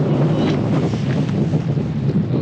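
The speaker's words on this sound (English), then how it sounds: "It is so windy and very cold." Strong wind buffets the microphone in a continuous heavy roar, with gusty rumbling and no voices.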